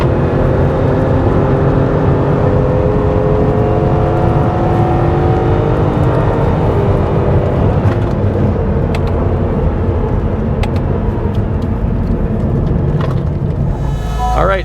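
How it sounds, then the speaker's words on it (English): A Honda Civic Si race car on Bridgestone Potenza tires drives under steady, loud engine drone from inside the cabin, with the pitch rising and falling through gear changes and occasional sharp ticks near the end. "This is the Honda Civic Si race car."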